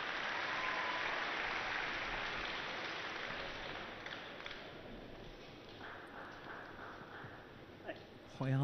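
Spectators applaud at a neighbouring table during a London 2012 Olympic men's table tennis match, a steady wash of clapping that fades out, followed by a commentator speaking and faint ball taps.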